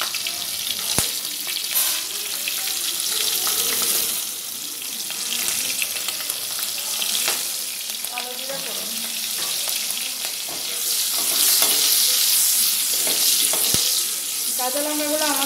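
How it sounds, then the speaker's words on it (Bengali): Slit green chillies and nigella seeds fry in hot oil with a continuous close sizzle. Stirring clinks and occasional splashy, tap-like water sounds run through it. "কাঁচা লঙ্কাগুলো আমাদের একটু ভাজা ভাজা হয়ে গেছে"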